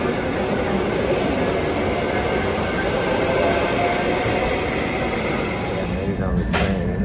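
Steady rumble of a moving passenger train heard from inside a car on a ride toward downtown Peoria, a continuous dense low roar throughout with a brief rising squeal near the end.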